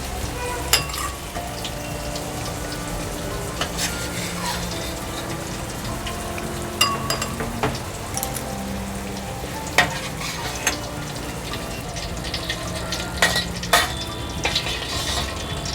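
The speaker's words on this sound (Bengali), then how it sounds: "পনিরটা আমার হালকা লাল করে ভেজে নেওয়া হয়ে গেছে।" Paneer pieces sizzle steadily in hot oil in a pan for a paneer jhol, a continuous frying hiss broken by occasional sharp clinks and scrapes of a spatula stirring, with no talking.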